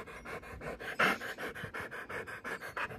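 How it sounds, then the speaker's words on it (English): A dog pants rapidly and steadily up close, a rhythmic run of quick breathy huffs with no talking. "He's a good dog."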